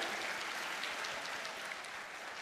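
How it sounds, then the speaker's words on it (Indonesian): Sustained applause from medical faculty students in a university audience at a national-identity lecture; a broad, steady wash of many hands clapping, moderately loud throughout. "tepuk tangan Fakultas Kedokteran"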